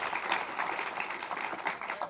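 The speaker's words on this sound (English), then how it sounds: "can we give a pre-round of applause to Adair Mosley, who's moderated this and is such a great community leader" A room full of people at a community forum applauding a panel moderator, dense continuous clapping at moderate level with no talk over it.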